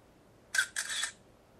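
A Pantech Link phone camera fires its shutter: a crisp two-part click, close and fairly loud, set against near silence.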